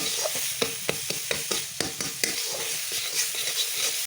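Beetroot paste being stirred dry in a pan: rhythmic scraping strokes of a spoon roughly every third of a second over a steady soft sizzle, close and fairly loud, no speech.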